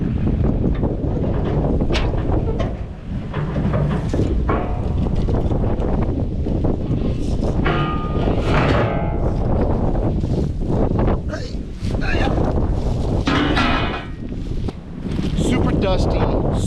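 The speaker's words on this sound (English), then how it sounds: "We've had a pretty crazy windstorm today. Gusts up about 80 miles an hour in some parts of the metro." Strong wind roars and buffets close against the microphone during a dusty windstorm with gusts up to about 80 mph on a metro-area building site, swelling and easing in steady gusts with a few faint knocks, and brief talk in places.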